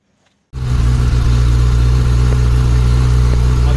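A motorcycle engine starts and settles into a loud, steady idle, a low continuous rumble close by with no other sounds.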